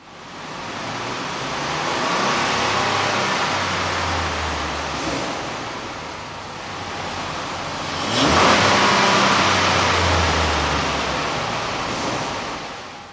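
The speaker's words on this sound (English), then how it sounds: "With the air intake installed, we ran the vehicle on the dyno to test the sound comparison versus the stock intake" A 4.0L Dodge Nitro fitted with a K&N air intake runs on a dyno, revving up in two long, loud sweeps with a roaring intake rush that swells, holds and falls back.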